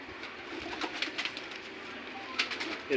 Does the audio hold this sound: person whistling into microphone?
no